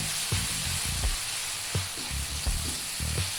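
Spice paste for spicy kikil curry sautés in a pan with a soft, steady sizzle, punctuated by regular low spatula scrapes and knocks against the pan, close and moderately quiet.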